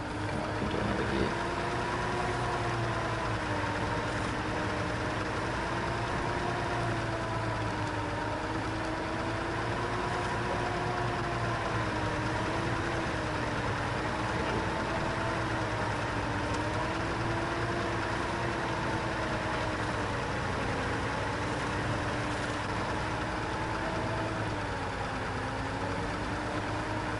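White Western Star twin steer truck in SnowRunner, its engine droning steadily and loudly for the whole stretch, with a wavering pitch as the revs rise and fall under load, close and continuous with no pauses.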